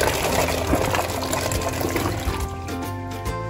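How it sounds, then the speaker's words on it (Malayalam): Small chopped tapioca pieces dropped into a pot of boiling water in a home kitchen, giving a steady loud watery splash and bubbling rush that eases slightly toward the end, with no talk. "നമ്മൾ ഈ കപ്പ ഞാൻ തിളപ്പിച്ച വെള്ളത്തിലോട്ട് ഇടുകയാണ്."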